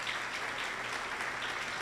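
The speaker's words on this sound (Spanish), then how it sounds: "Dele un fuerte aplauso al Señor esta tarde" A church congregation claps loudly and steadily during an evening service, a dense continuous wash of applause with no talking.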